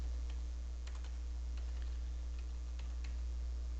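Sparse keystrokes on a computer keyboard while coding a pygame project, a few light clicks spaced irregularly over a steady electrical hum, close and quiet, with no talking.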